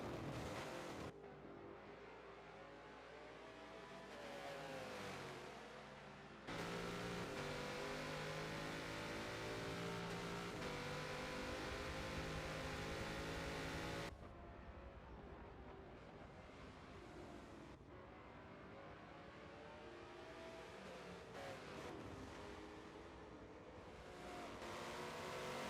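GT race cars, including a Porsche, racing at Sebring in a racing game, with engines droning and revving continuously, the pitch rising and falling through gear changes. Abrupt cuts switch between cars and camera views.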